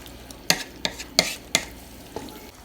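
Ground beef browning in a pan, stirred with a utensil that scrapes and clacks against it in about five sharp strokes, set over a soft, low sizzle.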